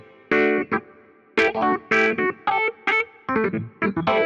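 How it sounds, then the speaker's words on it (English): Short sung or played phrases run through a long vintage reverb effect on a mixed music track, with clipped, separate bursts and a little spacious tail in the gaps. "Add some reverb, get a little further away, a little bit in a space,"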